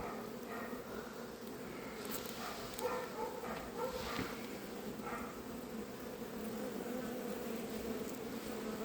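Honey bees in an opened backyard beehive during a homestead inspection, giving a steady, close, dense buzzing hum that stays constant and loud throughout.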